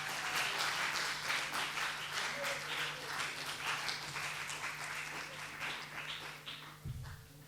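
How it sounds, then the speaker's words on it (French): An audience at a school student-journalist festival applauds as a woman is called to the stage, a steady, faint wash of clapping that continues throughout with a low hum underneath. "On applaudit Madame Alice Opo"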